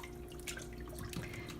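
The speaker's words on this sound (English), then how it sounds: "I'll just swish it around," Wool garment and delicates swished by hand in a basin of plain water, giving soft, close dripping and sloshing water sounds at low level, with no talking.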